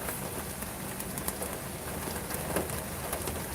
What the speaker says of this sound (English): Oh, the rain's getting heavier.